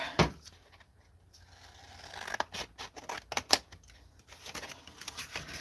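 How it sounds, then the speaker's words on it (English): A series of crisp snips from long scissors, irregularly spaced, close and fairly quiet, with soft rustling between cuts. "I'm going to use my long scissors, because it makes it easier."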